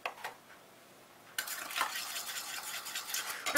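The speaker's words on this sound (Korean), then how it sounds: "자, 이렇게 해서 부드럽게 계란 노른자를 풀어주시고 여기에 소금, 설탕 넣겠습니다." A whisk or utensil stirs egg yolk with cold water, salt and sugar in a bowl, giving quiet scraping and light clinks, then a louder, busier stretch of steady mixing.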